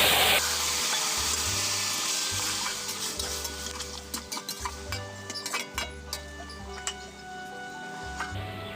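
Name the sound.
vegetables poured into a pan and stirred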